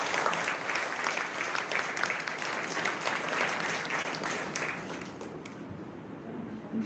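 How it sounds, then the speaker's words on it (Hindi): Audience applause fills a hall at a Brahma Kumaris gathering: dense, steady clapping from a large crowd, loud and continuous throughout, tapering slightly near the end, with no talking over it. "चलिए अभी आप इनका भी स्वागत करिए, ताली बजाइए।"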